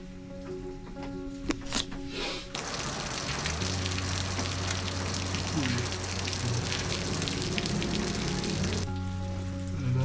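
Steady broadband typhoon rain hiss heard from inside an L300 delivery van fills the clip, a continuous wash that swells after a few seconds, with a low hum and faint sounds beneath.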